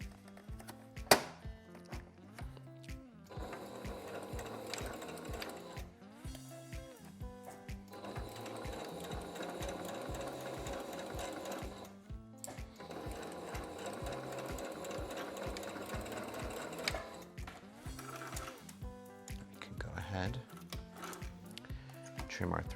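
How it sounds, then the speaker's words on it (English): A sewing machine runs close by in rapid mechanical bursts with short pauses, stitching a line near the edge of a shirred top; a voice talks over part of it. "we're just going to put a stitch line across this area. We're going to go very close to the edge."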